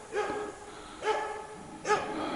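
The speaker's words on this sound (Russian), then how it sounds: "Рябчика лаял." A hunting dog barks at a hazel grouse in the forest. Three loud, separate barks come about a second apart at mid distance.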